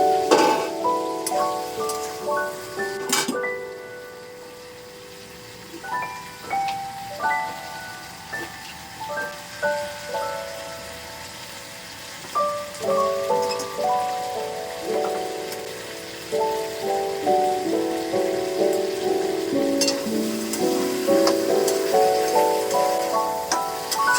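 Chicken sizzles steadily in a pan as it is sautéed down for a light curry gravy, a continuous crackling hiss that runs under a melodic backing tune throughout.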